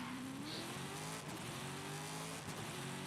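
A car engine in a racing video game revs and holds a steady rising drone, faint and continuous, with a slight squeal of tires in the mix.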